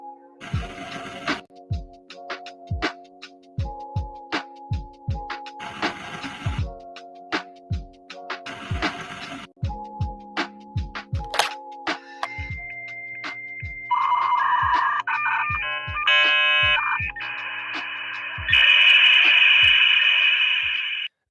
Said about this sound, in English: Hey, Space Tacos, when you hear that modem, drink.